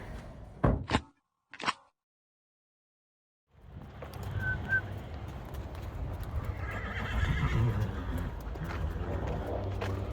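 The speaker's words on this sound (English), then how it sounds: "So come with me as we move some horses to pasture." Horses whinny twice in quick succession, then after a pause hooves clop steadily on hard ground, close by, with rustling and faint outdoor ambience.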